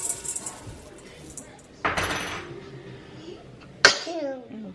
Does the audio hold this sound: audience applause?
no